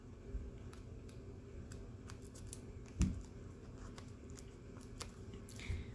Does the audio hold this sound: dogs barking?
no